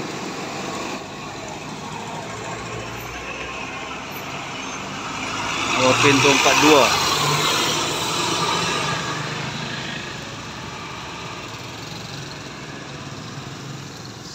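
A bus on the road from Aceh toward Medan passes by with a rising engine and road rumble that swells mid-clip and fades, over steady traffic background with brief spoken words.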